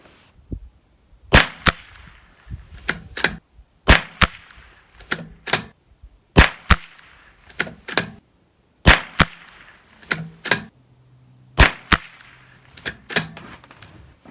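A Ruger Precision Rimfire .22LR rifle fires from a BX10 magazine at paper targets, about fifteen sharp close reports spaced irregularly over several seconds, each followed by a faint click of the action, with quiet gaps between.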